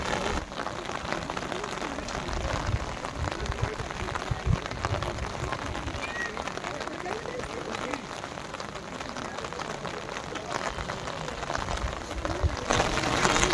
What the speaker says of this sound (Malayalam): മഴ പെയ്തിട്ട് ഞാനും കുടയിലാണുള്ളത്